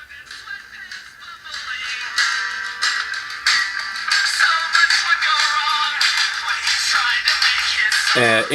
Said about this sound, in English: we're going to go ahead and play music through the watch